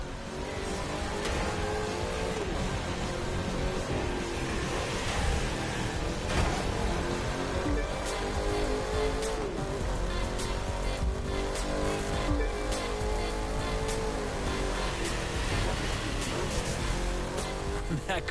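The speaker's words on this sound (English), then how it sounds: "That car's really moving." A race car tearing along in the driving game The Crew 2, its engine revving high and shifting in steady, sustained bursts, with occasional tire noise and a person talking over it.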